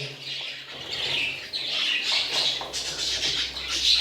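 Pet budgerigars in a breeding setup with a nest box and chicks make a busy, close stream of bright chirps and harsh squawks. The calls overlap and carry on steadily without pause.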